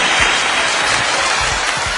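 A brief burst of audience applause from a comedy performance, dense and loud, with a few thumping stomps underneath.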